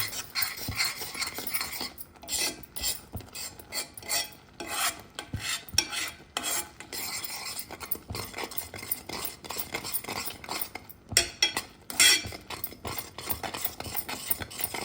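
Spices being stirred into lime pickle with a spoon, with black pepper and cumin powder added: a steady series of close, scraping rubs and light clinks of metal against the container, continuing without pause and with no voices.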